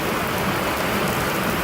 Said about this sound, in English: Knew it was going to rain.